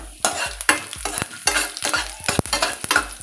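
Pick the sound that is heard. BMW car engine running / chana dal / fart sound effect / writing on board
chana dal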